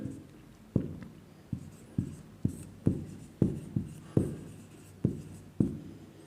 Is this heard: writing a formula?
yes